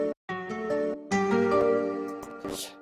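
A trap-style production plays an Omnisphere guitar chord pattern, with sustained, ringing harmonic chords that shift in a few steps and swell in the middle, then thin out with a brighter hit near the end.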